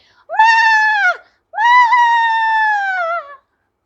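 Two loud, close bleats from a frightened sheep: a shorter cry, a brief pause, then a longer quavering one, heard alone against silence.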